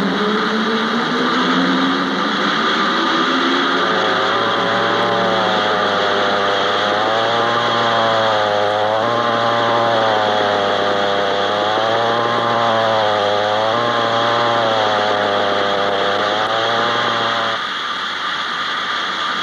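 A saw runs loudly and continuously, a steady droning motor whine that rises and holds its pitch without pause, close and dominant with no voices.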